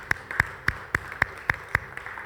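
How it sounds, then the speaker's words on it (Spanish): Several people clapping in a church in a steady, rhythmic beat, about seven sharp claps in two seconds, moderately close with no talk. "Dale un fuerte aplauso al Señor."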